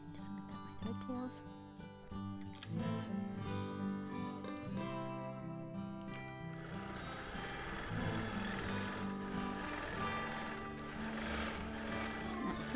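Sewing machine stitching free-motion quilting on 1930s reproduction print fabric, a fast rhythmic needle hum that pauses briefly and starts again, running up close with a faint voice underneath.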